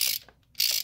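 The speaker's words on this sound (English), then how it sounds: "you can get the ratchet, re-insert it" Two quick bursts of ratchet clicking from a hand ratchet working a spark plug on a 2015 Dodge Journey 2.4L, close and crisp with a short pause between them.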